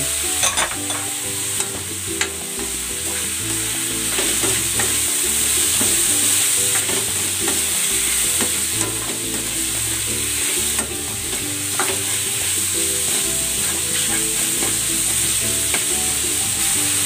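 Sweet balls and kikiam are stir-fried in a pan for pancit bihon, a loud steady sizzle with continuous scraping and clattering stirs running throughout and no voices.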